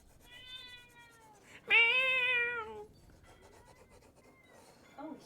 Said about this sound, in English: Oh, he's chatting.